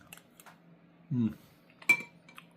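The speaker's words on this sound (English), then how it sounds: "See what they look like when I cut them up here." Metal cutlery clinks against a bowl while meatballs in soup are cut, with one dull scrape and a sharp chink, close and brief in a quiet room.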